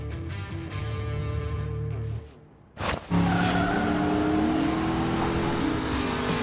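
Cartoon Hot Wheels race cars roar loudly and screech through skids, with a brief drop to near silence midway before engines and squealing tires surge back at full volume.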